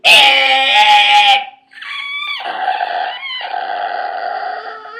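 A voice imitates a wagon screeching to a halt with loud, high, strained squeals, a short pause, then a long wavering screech that trails on.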